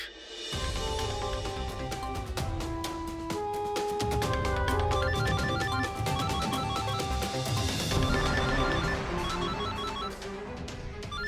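A phone ringtone plays continuously in a Hindi TV drama scene, a bright electronic melody with repeating tones, loud and close, with no talking over it.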